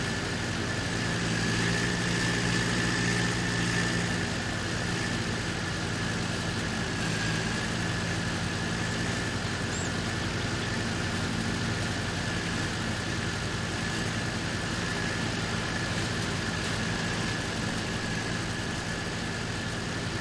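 Ursus tractor engine running steadily while pulling a hay rake during early haymaking, a continuous loud low drone with a faint high whine, no pauses or talk throughout.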